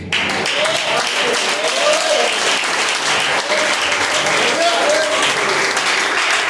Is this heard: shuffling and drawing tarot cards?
no